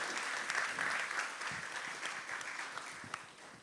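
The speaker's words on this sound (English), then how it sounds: "let us give a warm round of applause to all the speakers" An audience at a Jakarta public transportation talk and discussion event gives a warm round of applause, a dense, even wash of many hands clapping at moderate distance.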